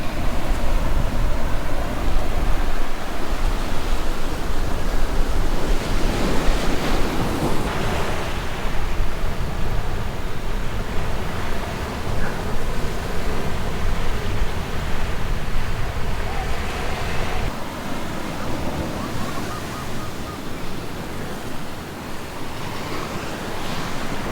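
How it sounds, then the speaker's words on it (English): Surf breaks steadily on a beach near Mākaha, Hawaii: a continuous, loud roar of waves with gusty wind buffeting the microphone throughout. "I just had to go down to this unknown beach for the first time."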